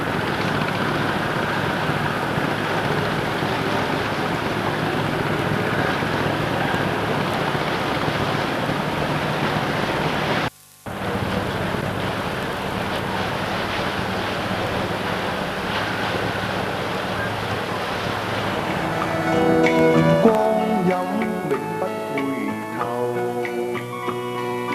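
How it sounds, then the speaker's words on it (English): Broad, steady wash of water and wind across a busy Hong Kong harbour in the 1970s, with boat engines rumbling underneath, a brief dropout midway, then tonal horn- or music-like notes rising near the end. "The hustle and bustle of all boats and ships and water transport of all shapes and sizes scurry back and forward across the"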